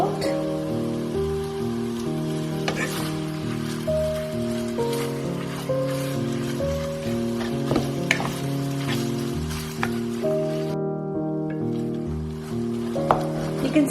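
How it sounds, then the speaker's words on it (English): Pork mince fries in a pan, a constant crackling sizzle with scattered pops and sharp clicks, heard alone over a sustained musical tone in the background. "I'm just going to cook this mince till it turns white in color."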